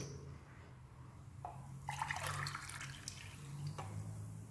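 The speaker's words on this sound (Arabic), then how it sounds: "4 كيسان ماء، هذا الكاس الاول" A glass of warm water poured into semolina batter for baghrir, a soft close splash and trickle in the middle with faint clinks around it.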